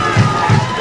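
A crowd at a high school football game roaring in reaction to a block on a kick return, a loud burst of cheering and shouting heard close.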